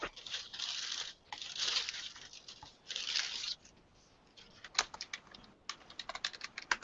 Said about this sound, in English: So when I remove the paper